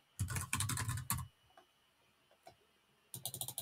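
A computer keyboard is typed on in two quick bursts of clicking keystrokes separated by a quiet pause with a couple of isolated taps, close and clear with no voices.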